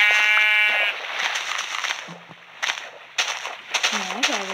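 A sheep bleats loudly at first in Minecraft Pocket Edition, followed by scattered game sound effects, thumps and chirpy tones.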